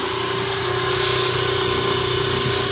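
A new motorcycle's engine runs at a steady idle, a continuous buzzing drone at close range that holds an even level throughout with no talk.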